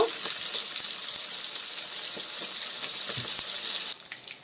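Fish pieces frying in hot oil in a pan for a Bengali rohu curry, a steady dense sizzle running nearly throughout before dropping off abruptly near the end, with no talking.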